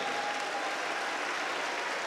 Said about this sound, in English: Everyone, please give him a big round of applause.